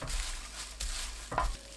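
Stir-fried seaweed with a spoonful of sesame seeds is tossed in a pan after the heat is off, with a soft steady sizzle and a couple of scraping stirring strokes close by.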